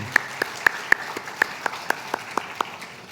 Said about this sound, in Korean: 함께 영광의 박수 올려드리겠습니다.